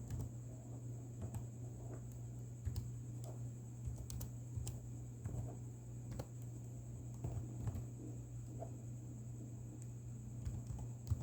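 Soft keyboard typing on a computer while entering a name into a program, scattered quiet key clicks over a steady electrical hum and fan noise, no talking.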